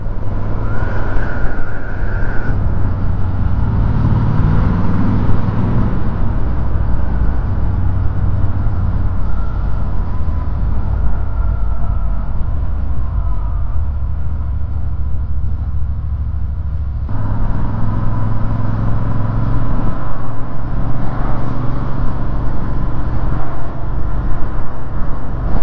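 A Royal Enfield Interceptor 650 motorcycle rides along a road in Brittany, its steady engine drone and wind noise continuous and close throughout, with a brief dip in level partway through.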